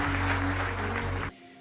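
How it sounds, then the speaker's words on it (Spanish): A burst of crowd applause at a church service, dense and steady, cuts off abruptly after a little over a second, leaving a quiet tone. "Dale un fuerte aplauso a nuestro Dios"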